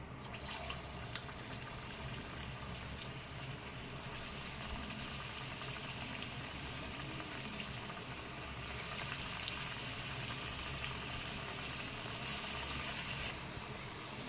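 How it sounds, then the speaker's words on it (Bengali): Banana fritter balls dropped into hot oil give off a quiet, steady sizzling hiss that bubbles on without pause. No voices are heard. "বল আকারে যেগুলো বানিয়ে রেখেছিলাম সেগুলো তেলেতে ছেড়ে দিচ্ছি।"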